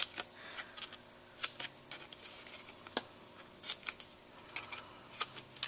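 Scissors snip through paper in a series of short, crisp cuts, irregularly spaced, close up in a quiet room.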